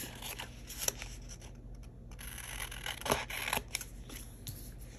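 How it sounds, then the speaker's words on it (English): Scissors cutting through a sticker sheet from a sticker book, quiet close snips and paper rustles in short irregular bursts. "let me cut off all of this stuff."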